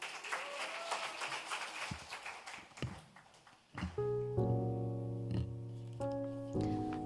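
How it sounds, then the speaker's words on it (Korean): A church congregation at a baptism service claps softly to encourage a middle-school student coming forward to give a testimony. Faint, scattered clapping lasts a few seconds, then gives way to sustained keyboard music. "우리 여러분의 큰 격려와 사랑의 박수로 함께 해주세요."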